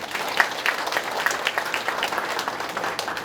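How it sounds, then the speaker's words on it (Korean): Audience applause at a county town-hall meeting in Haenam, South Korea, steady crisp clapping from a crowd that continues evenly throughout, with no speech over it. "여러분 우리 공직자들에게도 큰 박수 한번 부탁드립니다"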